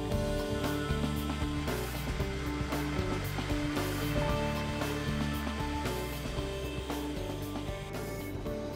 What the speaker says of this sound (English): Another tool provides precise cuts for electrical outlets and conduits in this SIP's panel.